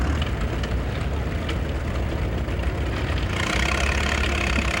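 A 1937 Oliver 1836 tractor engine idling at a show, a steady low rumbling run with a brighter mechanical clatter rising in the last second.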